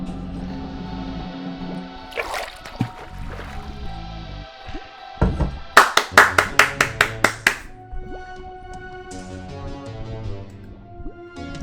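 Applause in the video game Darkside Detective: a short run of about eight sharp, evenly spaced claps near the middle, loud and close, set among quieter game sound effects and music.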